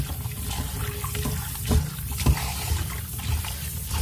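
Tap water runs steadily and splashes over kamias fruit in a bowl or sink, a continuous close trickle and spatter with no voices.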